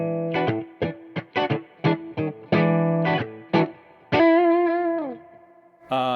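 Distorted electric guitar through an EQ/gain pedal (Son of Kong) plays short choppy chords and notes, ending on a sustained ringing chord, with a thick effects-processed tone.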